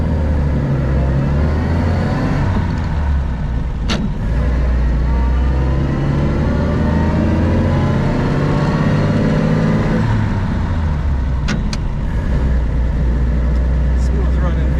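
A 1929 Chevrolet AC International two-door sedan with a 3-speed floor shift drives along, its engine and road noise a steady loud drone with some slight rises in pitch, as someone talks over it throughout.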